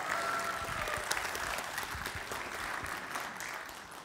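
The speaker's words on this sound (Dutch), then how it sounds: "Applaus voor Jeannette" An audience applauds at a provincial election debate between party leaders in Overijssel, steady moderate clapping from a hall crowd, fairly faint and even throughout, with no speech over it.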